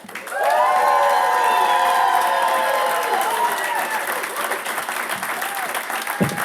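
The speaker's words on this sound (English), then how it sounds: "Keep that applause going for young Joseph" Applause and cheering erupt from a stand-up comedy crowd in Tucson, building quickly into loud sustained clapping with whoops, while a voice speaks over it and the clapping thins near the end.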